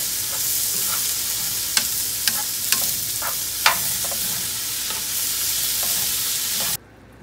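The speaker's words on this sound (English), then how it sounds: "you're just going to saute these vegetables till they're kind of browned" Corn, black beans and vegetables sauté with cumin in a hot pan, giving a steady close sizzle with a few sharp stirring clicks and scrapes before cutting off abruptly near the end.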